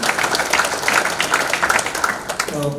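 An audience at a political meeting applauds in a dense, steady burst of clapping, with a voice faintly beginning to talk near the end.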